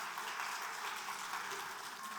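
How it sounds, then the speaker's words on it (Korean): A church congregation applauds, a faint, steady wash of many hands clapping together in a large room. "박수 한번 쳐주실래요?"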